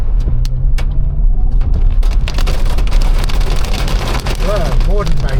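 Small hailstones patter steadily on a car's roof and body during a severe storm, a dense loud drumming throughout with a low rumble beneath and a voice speaking briefly near the end.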